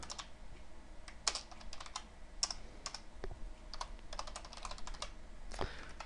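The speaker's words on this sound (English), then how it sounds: "Having keyboard difficulties tonight." Someone types on a computer keyboard in irregular bursts of clicking keystrokes, fairly faint and close, with short pauses between runs and no talking.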